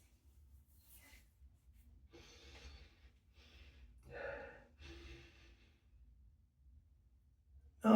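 A person sniffing and breathing after rinsing their face during a wet shave, several short nasal inhales and snorts with pauses between them, close and soft in a quiet room.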